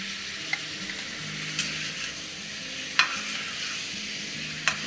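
Red chilli, turmeric and Kashmiri chilli frying in a pan, being stirred: a steady soft sizzle with a few sharp clinks of a spoon against the pan, close and alone.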